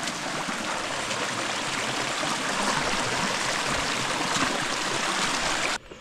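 A creek in overgrown bushland along Breakfast Creek flows with a steady, close, full rush of water that holds evenly before cutting off abruptly near the end.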